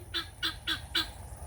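A guinea fowl calls four times in a quick, regular series of harsh, honking cries, close and fairly loud with no talking.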